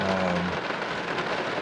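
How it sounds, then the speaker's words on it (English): Rain falls steadily on a surface outdoors near a truck, a soft, even hiss of patter throughout the brief moment with no voices. "if the rain lets up"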